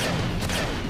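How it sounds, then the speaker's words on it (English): Airstrike explosions in the Renegade Ops video game, a brief, continuous rumble of blasts and booms, dense and loud, with no voices. "Have some airstrike!"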